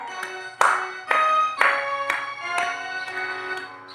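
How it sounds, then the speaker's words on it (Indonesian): Children in a first-grade class clap their hands in a steady beat while singing the patriotic song Garuda Pancasila, about two claps per second, sharp and fairly close, with sung voices throughout. "Sambil tepuk tangan boleh?"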